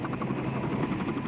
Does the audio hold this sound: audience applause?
no